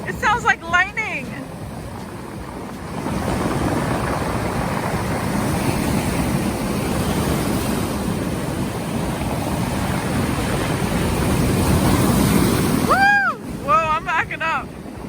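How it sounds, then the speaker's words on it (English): Ocean surf pounds a snowy, icy winter shore on Cape Breton Island, Nova Scotia, a loud, continuous booming roar that lasts for about ten seconds, with wind buffeting the microphone and brief chirpy sounds at the start and end. "It's just the sound of the waves."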